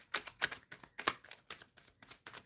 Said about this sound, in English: I'm shuffling for Witchy.